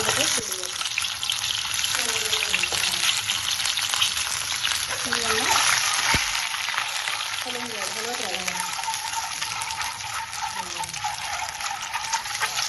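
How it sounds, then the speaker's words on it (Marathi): Eggs frying in hot oil for a dhaba-style egg masala, a loud continuous close sizzle with occasional spoon scrapes and a brief knock, no voices over it. "आता आपलं तेल पण गरम झालं आहे यात आपण एक एक करून सगळे अंडे"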